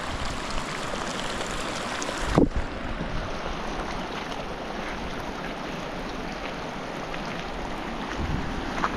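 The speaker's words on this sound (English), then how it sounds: "So this right here is the source of the hot springs. It trickles on down this rock" Scalding hot-spring water trickles down a rock at its source, giving a steady, close, broadband wash of running water with a brief bump partway through and no talking.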